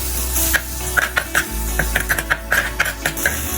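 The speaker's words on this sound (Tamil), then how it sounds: "இது வதங்கட்டும்." Food sizzles steadily in a clay pot while a utensil stirs and scrapes repeatedly, sharp clinking taps recurring every half second or so, close up and loud.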